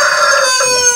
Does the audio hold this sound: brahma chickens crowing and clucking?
yes